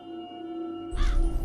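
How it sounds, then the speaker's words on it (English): A crow caws once outdoors, a harsh nearby call rising over a steady background hum and low rumble. "I hear birds."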